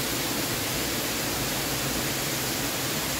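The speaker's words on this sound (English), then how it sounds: "Look at that waterfall." A waterfall at Lover's Leap in Rock City on Lookout Mountain gives off a steady, dense roar of rushing water, loud and unbroken.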